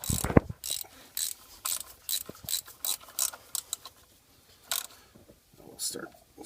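A ratchet snugs down water pump bolts on a Chevy Impala SS engine, giving rapid clicking bursts separated by short pauses. The clicks are close and crisp, with brief quiet gaps between strokes.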